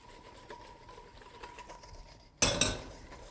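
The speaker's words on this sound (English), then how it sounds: "So stand there and stir for about a minute, and it will bring everything all together" A utensil stirring a melted chocolate mixture in a bowl for chocolate pot de crème: faint soft scraping at first, then a sudden louder burst of clinks and scraping near the end.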